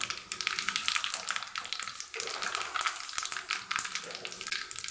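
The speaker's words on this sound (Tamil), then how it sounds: "கடுகு நல்லா பொரிஞ்சிருக்கு" Mustard seeds spluttering in hot oil while tempering a Tirunelveli-style lentil kuzhambu, a crisp, busy crackle of tiny pops running steadily throughout, close and moderately loud.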